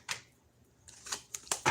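Tarot cards being shuffled by hand: a short riffle, then a cluster of quick, close papery flicks and snaps, with no speech.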